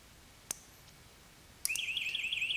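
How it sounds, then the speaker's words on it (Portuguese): An electric fence alarm sounds nearby: a sharp click, then a piercing electronic siren that starts abruptly and warbles in a rapid rising-falling tone over quiet background hiss. "a sirene irá disparar normalmente"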